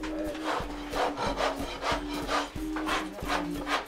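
A farrier's rasp scraping across a donkey's hoof in steady back-and-forth strokes, about eight rhythmic rough rubbing passes, close and fairly loud with no talking.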